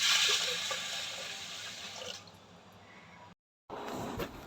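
Cut fish being washed in water before cooking: close splashing and swishing of water, louder at first, then softer, with a brief silent gap before the sloshing returns.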